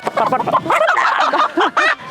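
Hens being chased on a farm in Puy-de-Dôme, giving sharp, agitated clucks and squawks in a quick close burst.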